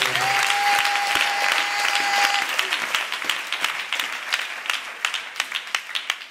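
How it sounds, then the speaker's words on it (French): A congregation at a prayer vigil applauding Jesus, with dense, loud, sustained clapping that breaks into more distinct claps as it fades. "Acclamez très fort Jésus."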